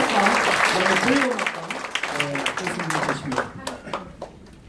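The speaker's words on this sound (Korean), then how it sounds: "박수 한번 주세요." An audience at a church event claps for a specially invited professors' band, the applause rising under a host's continuing speech and thinning into scattered individual claps.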